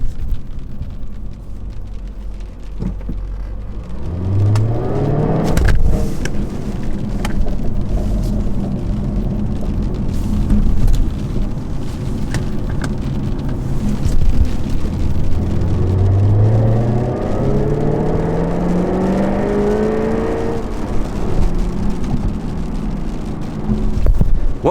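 A Jaguar F-Type R accelerates from a standstill, its engine climbing in pitch twice, a loud rising drone with a steady rumble underneath, heard from inside the car at about 95 decibels.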